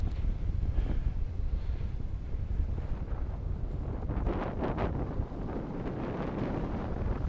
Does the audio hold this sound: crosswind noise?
yes